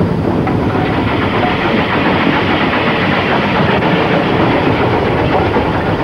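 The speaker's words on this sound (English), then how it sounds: "I'm listening to the beat of the engine. I'm listening to the rail joints for my speed." Steam locomotive hauling an express train, a loud, continuous, close roar of engine exhaust beat and rolling wagons with rhythmic clickety-clack over rail joints, steady throughout with no talking.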